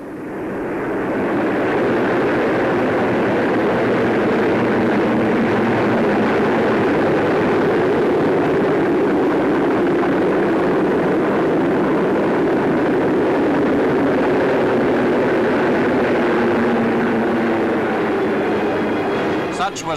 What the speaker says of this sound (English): submarine squadrons, fighters, reconnaissance aircraft and night fighters, aircraft of the Fleet Air Arm